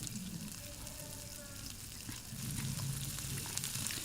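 Drumstick, potato and eggplant pieces lightly frying in oil in a home kitchen pan give a steady, soft sizzle and crackle that swells a little louder partway through, with no talking.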